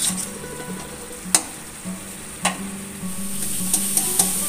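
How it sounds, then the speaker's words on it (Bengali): Spice masala with turmeric sautéing in oil, a low steady sizzle broken by sharp spatula scrapes and clinks against the pan at irregular intervals, close and fairly quiet. "এটা ভালো করে কষিয়ে নিতে হবে যতক্ষণ না মশলা থেকে তেল ছেড়ে যায়"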